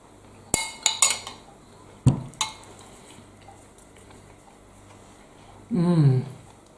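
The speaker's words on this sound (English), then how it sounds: "I'm struggling with a spoon." Metal spoon clinking and scraping against a dish while scooping a big spoonful of a store-cupboard lunch, several sharp close taps in quick succession, then a brief muffled murmur at the end.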